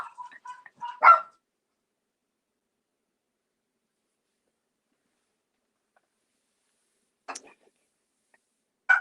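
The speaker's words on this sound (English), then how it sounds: "My dogs are barking." Dogs bark indoors in a few short bursts, one near the start and two more toward the end, separated by long silence.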